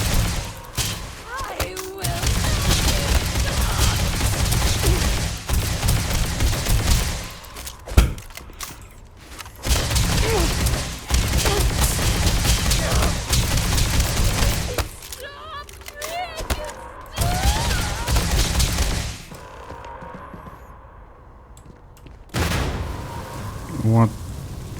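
Sustained bursts of heavy gunfire from Starfield, loud dense volleys broken by short pauses, with someone talking over parts of it.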